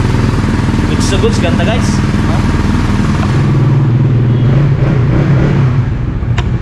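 A 2024 Suzuki Raider FI 150 motorcycle engine starts up and runs with a continuous loud close idle and revving rumble, while someone talks over it and a brief clatter sounds.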